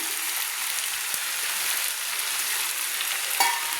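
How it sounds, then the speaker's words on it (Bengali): Onion stalks and potatoes frying in oil with salt, stirred in a pan: a steady close sizzle with a faint scrape of stirring at around one second and again near the end, no talk. "1 চামচ লবণ দিয়ে আমি একটু ভালো করে নেড়ে নিচ্ছি পেঁয়াজ কলি আর আলুগুলো।"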